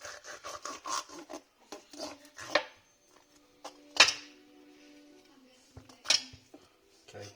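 A knife slices through a trout as it is cleaned, giving bursts of close scraping and rasping cuts with short pauses between strokes.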